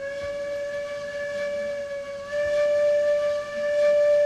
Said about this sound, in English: And the bell, the horn, the whistle.